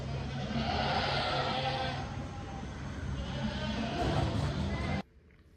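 Newborn Saanen goat kids bleat continuously and fairly loudly on a large UK dairy goat farm while being moved to a warm room, their overlapping cries filling the space before cutting off abruptly.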